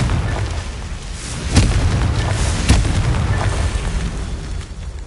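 Confringo fire spell explosions in Hogwarts Legacy on PS5, two sharp booming blasts over a dense rumbling game soundscape, loud and close.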